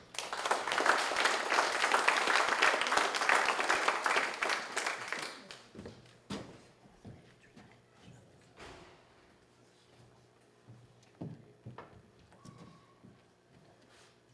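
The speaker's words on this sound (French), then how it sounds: "Bonne main d'applaudissement pour Diane" Applause from an audience at a 2019 firefighters' recognition evening for the Grande-Rivière fire safety service, as a firefighter is welcomed: dense, loud clapping for about five seconds, then fading into scattered claps and quiet room noise.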